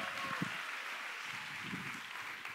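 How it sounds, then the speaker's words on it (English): Faint, distant applause from a church congregation clapping for a group of girls during a sermon, a soft steady patter of many hands that continues evenly throughout. "give all the girls a big hand clap"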